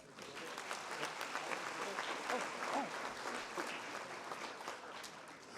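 Applause at a retirement ceremony, a soft, distant wash of many hands clapping that runs evenly for several seconds, with faint murmuring mixed in.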